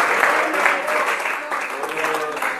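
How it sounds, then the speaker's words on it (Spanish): A church congregation applauding steadily at moderate loudness, a dense wash of clapping that carries on under a voice. "Un aplauso para el Señor."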